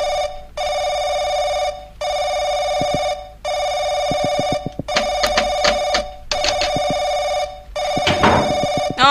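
Telephone ringing at night in the horror game Paranoiac, loud repeated electronic rings in even bursts with short gaps, joined later by clicking and rattling noises.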